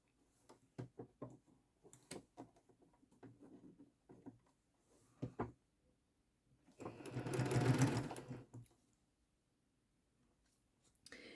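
A sewing machine stitches quilt fabric pieces in a short burst of about two seconds, preceded by scattered ticks and clicks of handling, fairly quiet overall.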